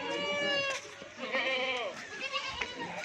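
Goats bleating on a goat farm selling Rajanpuri breed goats, several loud harmonic bleats overlapping close by, with someone talking briefly in between.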